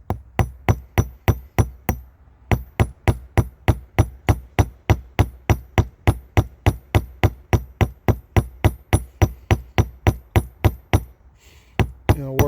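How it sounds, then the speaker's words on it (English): Steady hammer peening on a rivet of a broken chainsaw chain, repaired by hand: over forty sharp, close metallic strikes in a fast even rhythm, briefly pausing near the end before resuming. "I'm going to peen the other one down a little bit."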